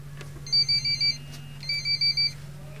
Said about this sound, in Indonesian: Sudah ada yang telepon sepertinya.